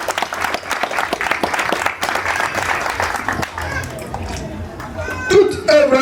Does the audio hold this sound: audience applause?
yes